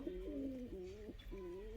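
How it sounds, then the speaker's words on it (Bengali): Pigeons let out of their loft give two close, soft, low coos in quick succession against a quiet background. "এই যে সব কবুতরগুলো ছেড়ে দিয়েছি বাইরে"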